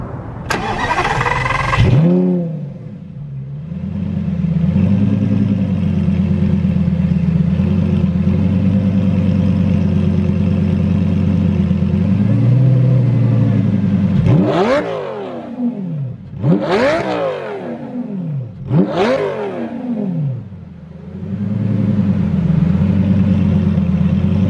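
A Lamborghini Gallardo engine starts with a roar, idles with a deep steady rumble, then is revved hard three times in sharp bursts before settling back.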